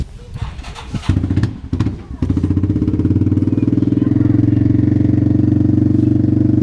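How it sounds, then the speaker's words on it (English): A four-wheeler ATV engine cranks and catches after a few rough tries, then settles into a loud, steady, throbbing idle close by. "my dad's gonna start riding the four-wheeler"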